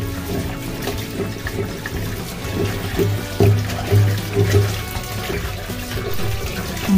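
Tap water runs steadily in a kitchen sink while mackerel is rinsed, with light splashing and a few brief knocks against the basin, close and fairly loud, no talk.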